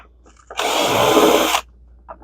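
A power screwdriver whirs steadily for about a second while backing screws out of a vacuum cleaner's handle assembly on a Riccar, Simplicity or CleanMax lightweight upright, loud and close, with brief small clicks before and after.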